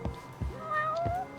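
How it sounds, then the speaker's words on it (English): Cats meow in the video game Judgment, with several short, close, clear meows in quick succession and a longer rising-then-falling meow in the middle. "Cats!"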